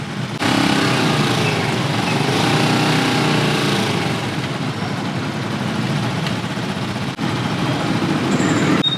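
A newly bought small motorcycle for farm use runs steadily close by, its engine buzzing loud and continuous throughout with only a brief dip near the end.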